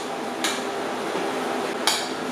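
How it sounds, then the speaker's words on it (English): A utensil chops sausage in a pan over a constant sizzling hiss, with two distinct sharp metallic knocks about a second and a half apart. "I'm going to chop up some more of that sausage and add it to the mix."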